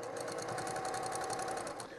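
A sewing machine stitches a pixel quilt onto interfacing, giving a steady fast mechanical whirring and clatter with an even stitching rhythm. It is close and fairly quiet and continues without a break for two seconds.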